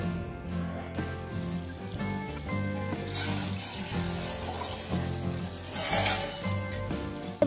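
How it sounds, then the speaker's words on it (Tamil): Water bubbling and churning steadily in a pot, brought to a boil for chicken biryani rice, with a few brighter hissing surges, close by and moderately loud. "நல்லா கொதிச்சு வருது."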